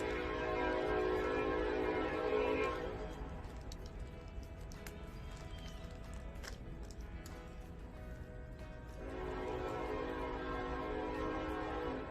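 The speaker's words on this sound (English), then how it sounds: "This being Norco, there's always a train." A train passes by in Norco, a steady rumbling roar with a sustained tonal horn-like drone that swells, eases slightly in the middle, then rises again, fairly close and continuous with no talking.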